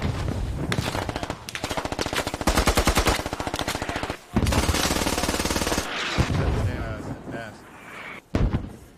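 Rapid machine gun bursts fire in a multiplayer shooter video game, loud and close, in long rattling strings broken by brief pauses and a few sharp single shots, with players talking over the action.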